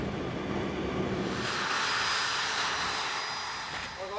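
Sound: Challenger aircraft engine in flight

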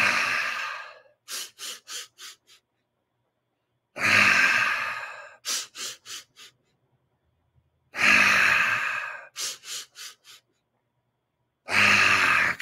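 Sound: deep breathwork breathing

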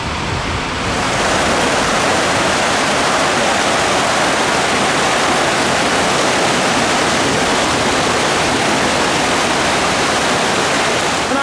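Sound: log flume ride water splashing

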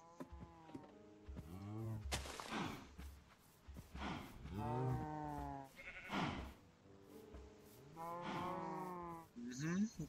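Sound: farm animals bleating in Minecraft video game

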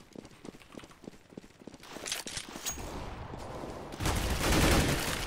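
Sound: grenade and gunfire in video game CS:GO

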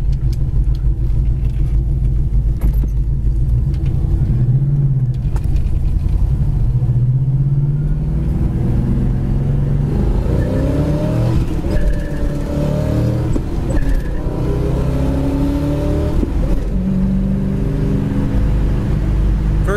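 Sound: 1970 Chevy Nova SS driving and accelerating

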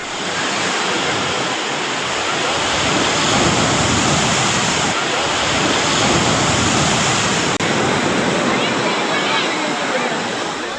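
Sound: rough sea waves at Tiruchendur beach during heavy rain

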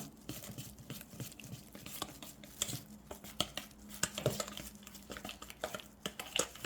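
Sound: mixing eomnamu shoots with garlic and sesame oil

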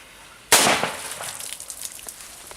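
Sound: Maxsem Srebrna Piratka firecracker exploding in water

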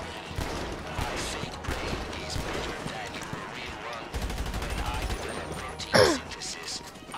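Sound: gunfire in video game GTA Online heist

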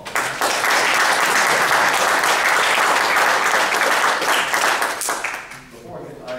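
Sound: audience applause at a party meeting

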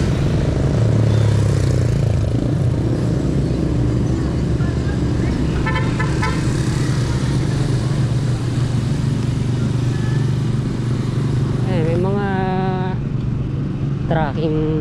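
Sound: many trucks in street traffic

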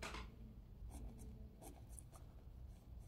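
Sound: writing by hand

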